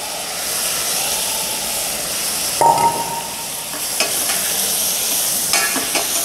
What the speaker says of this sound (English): Saute them, add some salt into it, and cook them for some time so that it gets soft.